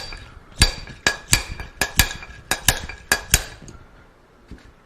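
Bearings being driven out of a motorcycle wheel hub: a series of about nine sharp metallic hammer strikes in uneven rhythm, ringing and close, with no speech.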